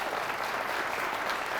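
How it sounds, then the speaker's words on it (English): A theater audience at a season finale event applauds, producing a continuous, even roar of clapping that stays moderately loud throughout the short stretch, with no voices on top. "We could have a nice round of applause for them."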